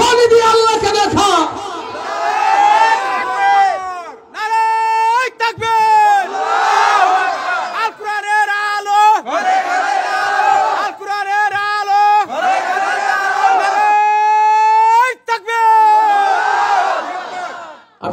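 A large crowd shouts the takbir cry, Allahu Akbar, at a religious gathering in Niamatpur, Naogaon, in repeated loud, drawn-out unison chants with brief pauses between each call.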